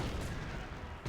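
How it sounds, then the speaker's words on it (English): Stuka dive bomber strafing infantry in Company of Heroes, a brief, loud, dense burst of rapid gunfire with a roaring broadband rumble that cuts off abruptly, no voices. "Stuka opening up on the capping rifles, not really hitting anything"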